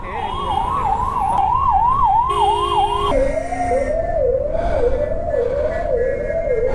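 An ambulance siren wails loud and close in road traffic, its rising-and-falling tone repeating steadily, switching to a lower-pitched wail midway, with steady horn-like tones and traffic noise beneath.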